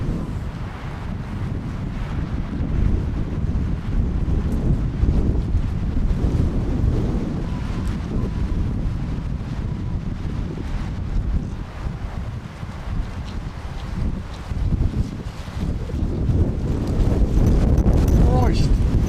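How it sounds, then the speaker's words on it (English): Strong gusts buffet a microphone at a night airfield, a loud continuous low rumble that swells and surges throughout, alone without talk. "the wind has gone crazy"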